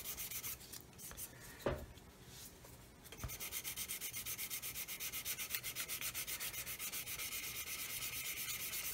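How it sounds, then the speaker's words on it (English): Sandpaper rubs across a plastic 1/144 scale Roden C-141B Starlifter model kit to blend a surface area. A few uneven scrapes come first, then quick, steady, rhythmic back-and-forth strokes, close and soft. "I'm just going to do some more sanding here to try and get the area to blend out a bit better."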